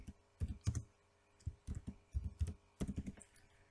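A name is typed on a computer keyboard in Excel, producing soft, close clusters of key clicks in short bursts with brief pauses between them, and no speech.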